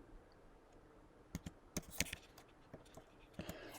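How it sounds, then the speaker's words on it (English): Quiet, close typing on a computer keyboard gives a few scattered sharp key clicks and taps in an irregular rhythm against near silence. "I'm going to type escape"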